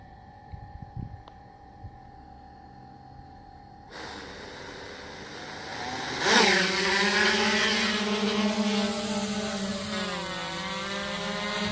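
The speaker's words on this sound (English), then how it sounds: "I'm going to be flying the drone" A drone spins up and takes off after a quiet, hissy start: a loud, close buzzing whine with stacked tones that jumps in pitch, then holds steady with slight wavering as it hovers and flies.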